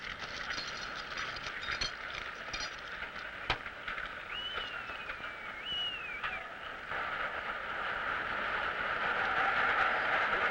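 A train carrying whale carcasses to a whaling factory rumbles along the railroad with clanks and a squealing wheel screech, growing louder and rushing toward the end.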